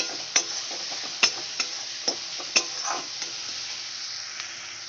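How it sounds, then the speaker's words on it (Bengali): Spices for moong dal with fish head sizzle steadily in hot oil while a spatula scrapes and knocks against the pan in irregular taps, close and clear with no talking. "আমি কিছুটা নুন দিয়ে দেব এবার ভালো করে কষাতে থাকবো"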